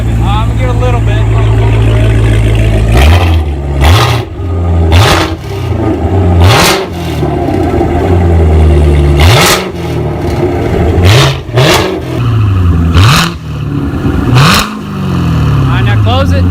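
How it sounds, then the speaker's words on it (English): A 2017 Corvette C7 Z06 with an ARMYTRIX X-pipe Valvetronic exhaust idles with a deep rumble, then is revved loudly about seven times in sharp blips that each fall back to idle. It is close and dominant throughout. "Let me get back there before you rev it."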